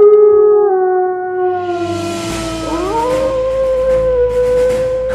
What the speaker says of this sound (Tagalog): malalakas na alulong na ang kanilang narinig sa labas ng mansyon